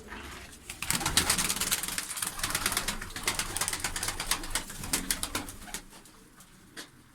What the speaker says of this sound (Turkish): Burada bizim Kocaeli'nin tabiriyle limon dediğimiz kuşlar var burada arkadaşlar.